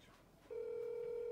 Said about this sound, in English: The phone been ringing for 3 seconds.